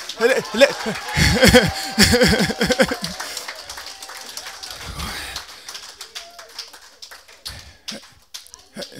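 Women clap in a church congregation, a burst of close, rhythmic handclaps that fades into scattered claps and murmurs, with a few isolated taps later on.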